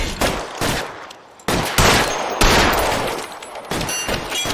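Gunfire in the LA Noire video game, a quick series of loud, close shots and bursts overlapping in a short exchange.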